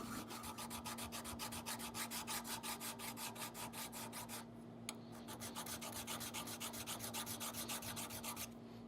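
Hand file rasping on metal cast from melted pennies, a steady rhythmic back-and-forth scraping of even strokes, close and clear, with a brief pause midway.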